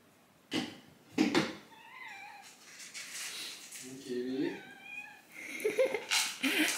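Several house cats meow repeatedly in the morning while waiting to be fed, with rising and falling cries near the microphone, overlapping and spaced across the moment.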